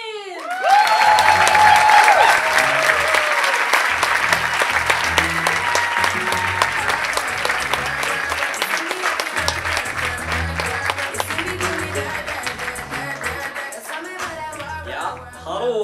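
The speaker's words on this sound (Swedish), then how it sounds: "stor applåd för Simon Jobin!" Loud, sustained audience applause at a stand-up comedy club, dense clapping with some cheering that starts strong and slowly tapers over about fifteen seconds, with no talking over it.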